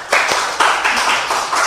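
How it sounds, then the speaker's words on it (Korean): Audience members clap at a Korean party debate between women's supreme council candidates, a short, thin burst of hand claps from a small room crowd, several distinct slaps layered over about two seconds. "박수를 쳐주실 거면 시원하게 쳐주시기 바랍니다"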